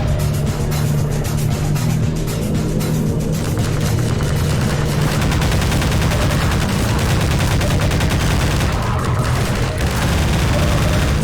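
Gunfire in the video game Half-Life 2, dense continuous shooting and loud chaotic combat noise that keeps going without a break.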